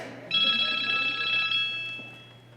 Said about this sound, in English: my parents got a phone call on their landline